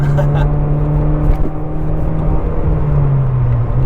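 A 2018 Mazda 3 hatchback engine drones loudly from inside the cabin, its pitch rising steadily as it revs higher, with a constant road rumble underneath.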